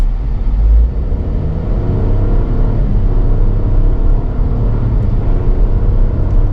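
2025 Chevrolet Trailblazer LS AWD pulling away from a stop and accelerating on a road, heard from inside as a loud, steady low engine rumble and drone that builds smoothly without any voices.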